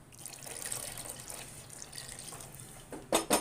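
Hot water, one and a half cups, pours steadily into a cooking pot of egg korma with a soft splashing rush, ending in two louder clunks.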